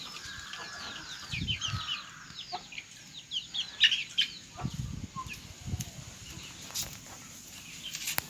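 Brooding hen sitting on a clutch of nine eggs for the first time, two or three days in, giving faint scattered clucks and low murmurs amid soft rustling in a quiet spot.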